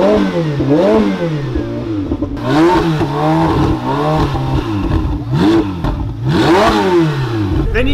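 Original-spec Ferrari 488 Pista blipped over and over near a wall, a string of loud, close revs that rise and fall sharply, with a harder burst near the end.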